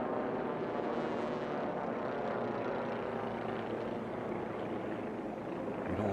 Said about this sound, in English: You get to see that beautiful DG2 racer.